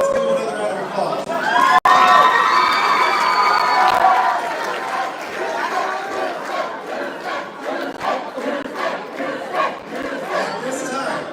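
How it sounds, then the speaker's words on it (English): A crowd at a high school debate finals event breaks into loud applause and excited cheering, with shouts and whoops over sustained clapping that gradually thins out into scattered claps. "Let's give them another round of applause."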